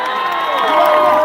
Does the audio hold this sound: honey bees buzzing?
no